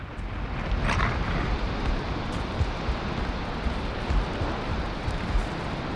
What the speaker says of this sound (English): It is the rain.